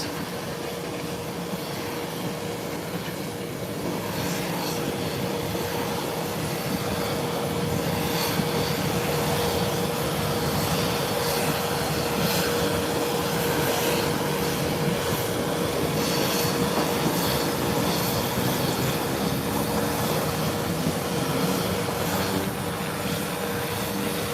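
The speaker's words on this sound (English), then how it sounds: "Whilst the Beechcraft 1900 is about to taxi out" Beechcraft 1900 turboprop engines idle as the plane taxis out at an airport: a steady, loud droning roar with a thin sustained whine on top, continuous and unbroken, with no voices.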